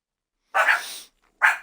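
A dog barks twice, close and sharp: one longer bark, a short pause, then a quick second bark.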